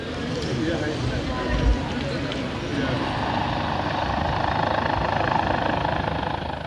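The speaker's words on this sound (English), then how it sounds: "The chopper conveying the General Overseer is sighted as it approaches the runway." A helicopter approaches a runway for landing, its steady rotor and engine roar filling the air continuously at moderate loudness while a voice talks over it.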